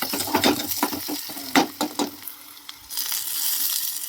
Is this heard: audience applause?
no